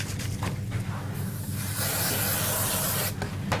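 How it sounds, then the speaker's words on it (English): Spray glue hissing onto a paper craft card, a continuous close spray lasting a few seconds with brief pauses, no talk. "So I'm just going to take a little bit of spray glue"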